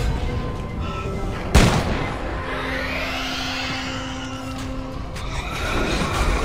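A single sharp gunshot cracks out in the sci-fi horror game Dead Space 3, loud and sudden, followed by rumbling game ambience and a faint whooshing sweep.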